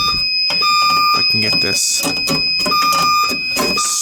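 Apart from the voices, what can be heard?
smoke detector alarm going off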